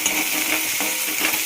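Sliced onions frying for kanda poha, a steady loud sizzle with light scraping as a spoon stirs them around the pan, no voices.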